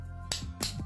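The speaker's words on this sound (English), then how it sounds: "That's the sound of silver tapping against silver." Silver coins tap against each other twice in quick, bright clicks, close and faint against a quiet background.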